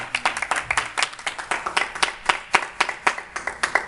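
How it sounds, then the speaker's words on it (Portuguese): Church congregation clapping during an evening sermon, loud separate hand claps in a quick uneven rhythm that sounds like a modest group nearby rather than a dense roar. "dá uma salva de palmas para ele nessa noite"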